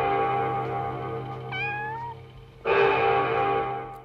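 A cat in the 1977 film House (Hausu) gives one drawn-out, descending meow, clear and close, over a steady musical drone from the film's soundtrack that swells louder afterward.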